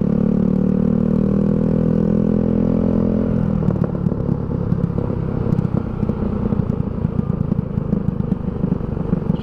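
A big motorcycle rides past with a loud, steady engine drone and rumble, a lower engine tone for the first few seconds, then rougher road and wind clatter as it keeps moving.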